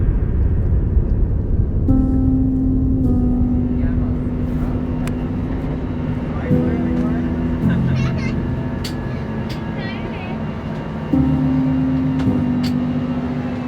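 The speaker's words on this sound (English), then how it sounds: "we were able to take off without any further delays, turning left onto the runway" Condor Airbus A321 taking off from the runway, heard from inside the cabin: a steady, loud engine roar with whining tones that climb in steps as the jet accelerates, with no talking.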